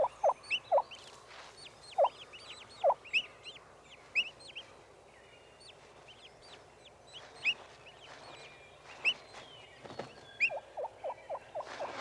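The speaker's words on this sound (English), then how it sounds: "The hen moves a few more feet and gives the assembly call." Wild turkey hen calling her poults to gather near the nest, repeated short yelps and clucks at moderate distance, with faint high chirping of young birds in between.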